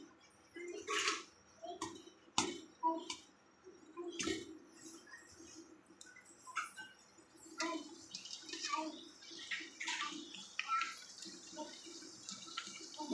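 Puris deep fry in hot oil for panipuri, giving scattered, fairly faint crackles and sizzling pops in irregular bursts, heard up close.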